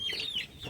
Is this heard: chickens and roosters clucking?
yes